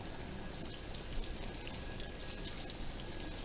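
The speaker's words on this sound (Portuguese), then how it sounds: "Vamos deixar fritar até criar uma casquinha embaixo." Breaded banana slices frying in oil, a faint even crackling sizzle like light rain, steady and unbroken throughout.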